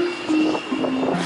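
A train at Amersfoort railway station in the Netherlands, a loud close rumbling roar with steady tonal whines and wheel squeal running through the whole brief stretch.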